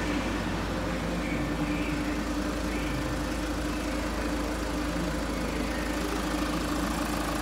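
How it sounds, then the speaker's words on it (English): Ford Mondeo diesel engine idling steadily during a Hydroflow carbon-cleaning treatment, a constant low rumble with faint knocking throughout and no pauses. "Car's running on diesel and ortho oxyhydrogen, which is H2O2, which is being produced by the hydroflow machine."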